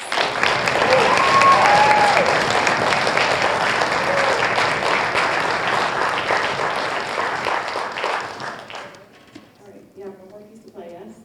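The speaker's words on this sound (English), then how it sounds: "Can we have another round of applause for all of our seniors?" An audience at a school orchestra concert claps loudly for about eight seconds, then the applause fades out and a voice begins speaking.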